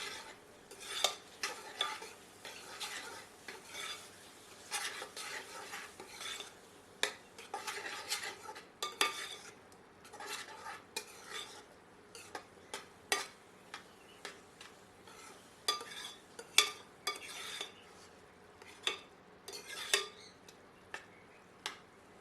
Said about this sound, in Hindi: सबको अच्छी तरह मिलाते हैं।